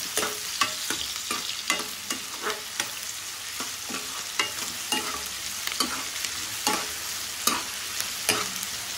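Prawns fry in a pan being cooked for a brinjal curry, with a steady sizzle broken by a string of sharp, irregular clinks and scrapes of stirring close by.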